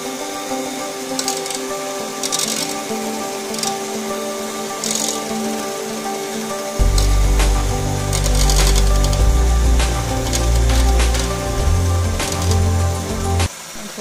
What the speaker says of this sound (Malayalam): അപ്പോൾ നന്നായിട്ട് ബീറ്റ് ചെയ്യാം.